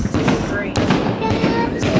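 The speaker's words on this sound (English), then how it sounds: "Look at the fireworks." Fourth of July fireworks burst in a few sharp cracks and pops spaced across a couple of seconds, ringing out over an outdoor crowd while people talk excitedly nearby.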